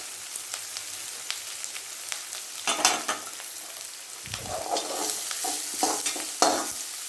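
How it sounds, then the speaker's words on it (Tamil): Onions sauté in a pan for a vegetable biryani while a spoon stirs them, a steady soft sizzle broken by sharp scraping strokes and louder bursts of frying. "நல்லா வணக்கி விட்டுருங்க"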